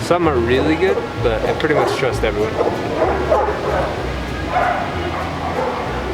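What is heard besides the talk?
many dogs barking in Mexico City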